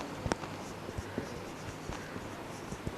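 Chalk or marker taps and scratches on a classroom board come as faint, irregular strokes under a low background hiss, with no talking.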